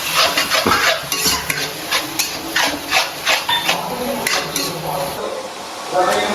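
Ginger, green chili and garlic paste are stirred into a hot pan: a spoon clatters and scrapes against the metal in quick repeated strokes over a soft sizzle, close and fairly loud.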